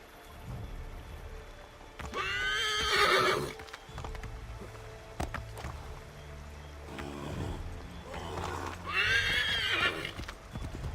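Video game horse giving two loud, close whinnying neighs a few seconds apart, with clip-clopping hooves and soft ambient patter between them, with no talk.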